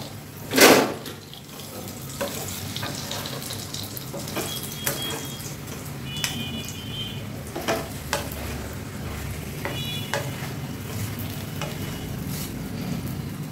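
Aloo paratha frying on a griddle in a spoonful of refined oil, giving a low steady sizzle with soft scraping and stirring clatter, a sharp knock near the start and faint intermittent clinks throughout.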